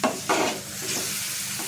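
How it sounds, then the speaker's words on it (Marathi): A spoon scrapes and stirs a thick pumpkin sweet mixture with jaggery in a pan, a few soft strokes with a faint sizzle beneath, close and quiet. "आता हे टाकून पुन्हा मिक्स करायचं आहे"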